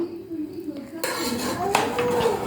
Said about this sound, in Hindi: ये अब हम अपने चावल मिक्स कर रहे हैं